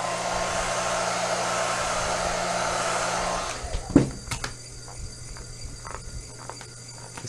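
A heat gun blows a steady whooshing hiss while warming vinyl wrap, then cuts off after a few seconds, leaving faint taps and handling noises nearby.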